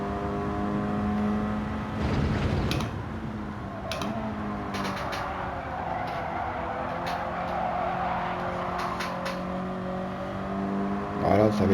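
A car engine in the racing game Gran Turismo 7 surges and revs, climbing and settling in pitch with brief skids and clicks, while a voice talks intermittently over it.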